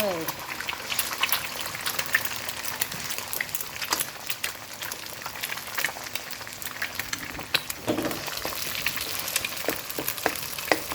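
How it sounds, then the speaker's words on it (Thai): Eggs fry in a pan for fried rice with Chinese sausage, giving a continuous crackling sizzle with scattered sharp pops, while a voice talks over the cooking. "หลังจากนั้นใส่ไข่ลงไปเลยนะเจ้า ใส่ลงไปเลย"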